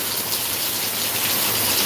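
A downpour of heavy rain in Deglur makes an unbroken broadband roar, close and constant throughout, with nobody speaking.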